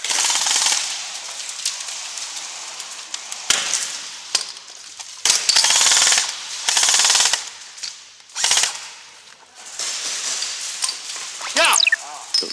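Automatic gunfire and bursts from a video game firefight, with grenade launcher kills and sword kills on a city map; loud, irregular volleys of rapid shots broken by short gaps, with a sharp sweeping tone near the end.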